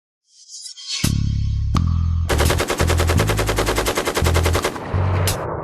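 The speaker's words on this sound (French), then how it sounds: "Ceci est le M416. Nom complet, fusil automatique M416." An M416 gas-operated automatic rifle fires loud, close bursts: a couple of single shots, then sustained rapid automatic fire with brief pauses, with no voices.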